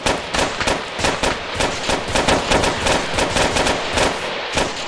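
Suppressive machine gun fire in the video game Arma 3: loud, close bursts of rapid, evenly spaced shots repeat steadily throughout, with no talk over them.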